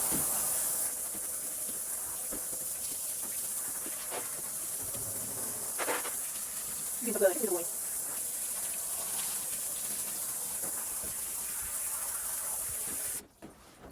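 Water spray rinses shampoo from a 70 lb standard poodle, a steady close hiss running almost without pause and cutting off abruptly near the end.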